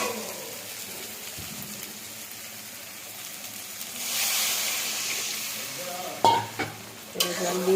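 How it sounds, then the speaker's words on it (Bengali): Water is poured into a spiced potato masala that has been fried in a pan, a rising rush of pouring and hissing, followed by stirring and clanks of a utensil against the pan. "জল দিয়ে দিলাম, এবার ঝোলটা হয়ে যাবে"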